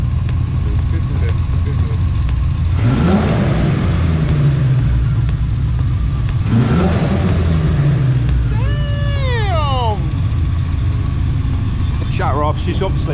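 A car engine, hot after sitting in traffic, idling with two rising-and-falling revs near the A1 graffiti bridge, loud and continuous, while a person talks.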